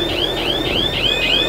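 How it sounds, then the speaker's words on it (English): A sailboat's dangerous-vessel alarm sounds as a loud, repeating electronic whoop, each tone sweeping upward about four times in quick rhythm over a constant background hum. "That was our dangerous vessel's alarm."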